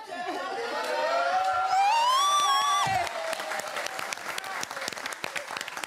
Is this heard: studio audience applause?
yes